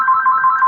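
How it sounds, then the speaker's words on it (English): A phone ringtone rings steadily and loudly for the whole moment, a bright warbling electronic tone pulsing in a quick, even rhythm, alone with no voices over it. "Sorry, that is the phone."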